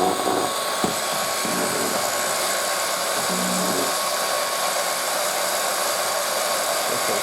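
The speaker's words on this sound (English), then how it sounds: "hit it with the heat gun while pressing on this board like this" Heat gun blowing hot air onto a plastic tire lever, a steady loud airy whoosh held throughout with a brief knock near the start.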